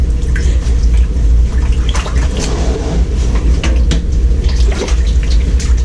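Water running steadily into a basin or bathtub, a continuous splashing flow with scattered drips, near and fairly loud.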